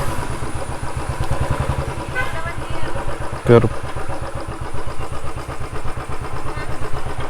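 A motorcycle engine putters steadily at idle with a rapid, even thump on a road near Athirappilly waterfall in the rainy season, while people talk nearby and a brief louder clack cuts in midway.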